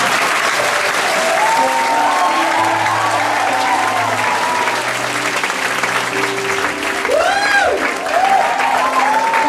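A church congregation claps loudly and steadily throughout, dense crowd applause with scattered cheers and whoops rising toward the end.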